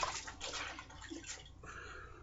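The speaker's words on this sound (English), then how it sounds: "and dip it in that cold water." A hand towel is dipped into cold water, giving a faint, brief splash and sloshing as cloth meets water, close by with no talking.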